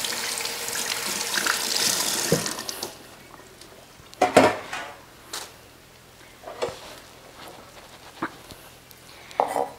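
A kitchen tap runs while fresh coriander is rinsed under it for spring rolls. A steady hiss of water comes first, then splashy rinsing with intermittent clatter and knocks near the sink.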